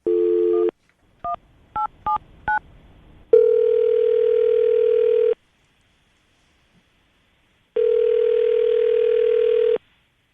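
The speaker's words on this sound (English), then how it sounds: "I'm going to dial his phone number right now, see if we can get him on the phone" Phone keypad tones beep in a quick sequence, then two long steady ring tones sound with a silent gap between them.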